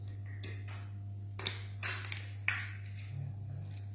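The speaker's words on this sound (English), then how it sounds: "you must hear a very loud and positive click sound like this" A few sharp plastic clicks and snaps sound close up against a low steady hum, with a louder click near the middle as an Aquasana water bottle's filter cap clicks into place.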